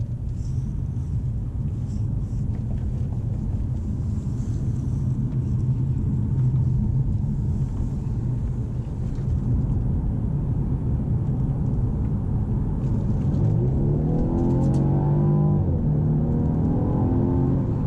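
A 2017 Mercedes E300 engine drones steadily from inside the cabin with road rumble, then revs climb in rising sweeps as the car accelerates hard after a roundabout.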